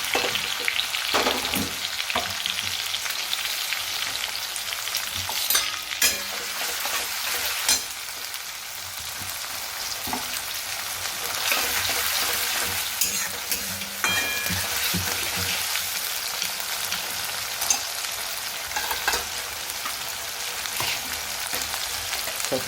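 Onion, dried fenugreek, green chillies, garlic and ginger fry in a few spoonfuls of oil, giving a steady, dense sizzle with occasional stirring scrapes throughout, close and moderately loud with no voices.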